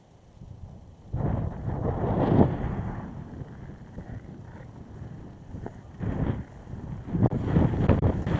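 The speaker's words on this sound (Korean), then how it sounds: "바람 분다" Wind sweeping across a snow-covered frozen lake in winter, rushing and buffeting the microphone in strong gusts that rise and fall for several seconds.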